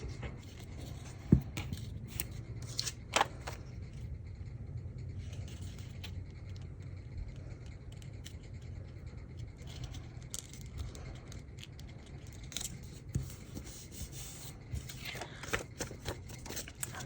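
Scissors trim excess paper from a glued library card pocket, close and fairly quiet, with scattered snips and light scraping over a low steady background hum and no talk.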